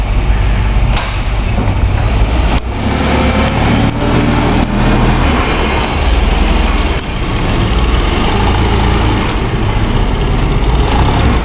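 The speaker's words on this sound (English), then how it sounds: "Forklift 101." A forklift engine runs steadily throughout, a loud, continuous idling drone with a faint higher whine and no pauses.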